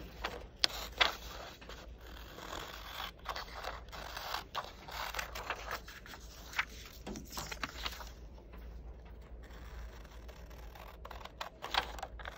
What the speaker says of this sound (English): So I'm gonna go ahead and cut.